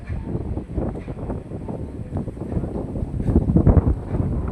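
Strong wind buffets the microphone in a steady low roar that swells toward the end, with a faint sense of open water.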